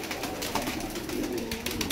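Fancy pigeons kept for sale coo softly and repeatedly nearby, with low background noise and no talking.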